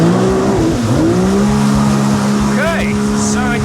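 A Yamaha JetBlaster PRO jet ski engine revs steadily and loudly up close, its pitch rising and falling as the craft is pushed into a wheelie, with wind and water noise around it.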